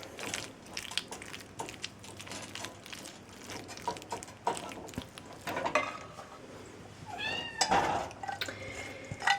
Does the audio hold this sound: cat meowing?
yes